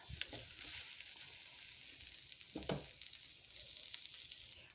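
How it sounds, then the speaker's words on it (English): Rice tipped into a hot pan with fried onions for shrimp fried rice, a steady close sizzle with a brief thump of the grains landing partway through, no talking. "Now we're going to go ahead and drop in our rice."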